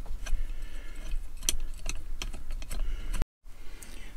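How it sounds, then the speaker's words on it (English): A 10mm socket undoes bolts on a Fiat Ducato while mudflaps are being fitted, giving rapid, close metallic clicking and ratcheting that runs almost without a break, with no speech. "So first thing is undo these bolts here."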